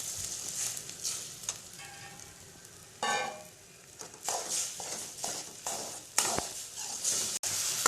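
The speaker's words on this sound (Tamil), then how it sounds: "கலக்கி வைத்திருந்த முட்டை கலவையை ஊற்றவும்." Egg mixture sizzles and fries in a hot pan, with intermittent bursts of crackling and scraping stirs, close up and without talking.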